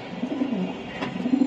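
A racing pigeon of a pure bold bloodline coos in soft, rounded low calls, a few phrases close at hand with a brief faint rustle midway and no talking.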